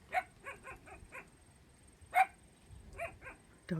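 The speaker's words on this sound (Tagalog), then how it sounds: "Daming aso." Several dogs bark in the countryside, sharp repeated barks and yips in uneven bursts, some closer and some farther off, with quiet pauses between.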